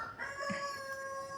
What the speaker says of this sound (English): as you can hear that, there's a lot of roosters